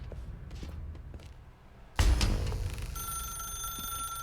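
In the game The Stanley Parable Ultra Deluxe, a sharp thud sounds, and then a telephone starts ringing with a steady electronic tone that continues to the end.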